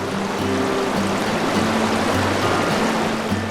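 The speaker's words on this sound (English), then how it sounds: "here is the creek that I'll be fishing" A small, tiny creek runs steadily with a broad, even wash of flowing water, close and continuous with no voices over it.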